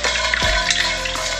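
Five-spice braising ingredients dry-roasting in a pan make a close, continuous sizzling rustle, with one dull knock from stirring partway through.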